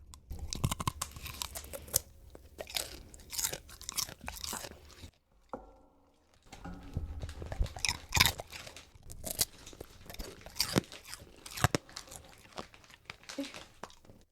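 A dog crunches and chews green beans up close, with repeated loud bites and mastication sounds in an irregular rhythm, a brief quiet pause partway through, and faint voices in the background.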